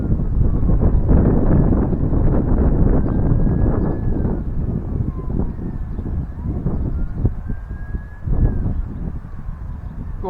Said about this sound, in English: the wind's not in the ideal direction.